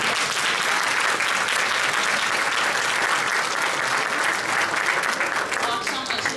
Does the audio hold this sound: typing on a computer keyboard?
no